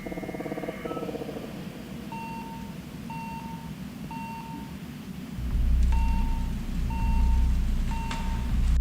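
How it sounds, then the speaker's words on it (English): A radio beeps in repeated short, regular electronic tones, roughly once a second, over a steady low rumble that grows louder partway through, in a dark forest during a search. "The beeping of a radio,"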